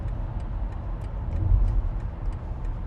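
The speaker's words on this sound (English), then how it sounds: "BMW with an indicator on" The turn indicator of a 2025 BMW iX electric vehicle ticks in a steady, even rhythm inside the cabin, each click light and crisp over a low road hum while driving.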